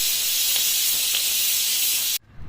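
A pressure cooker vents steam in a loud, steady, close hiss for about two seconds, then cuts off abruptly, leaving a faint low rumble.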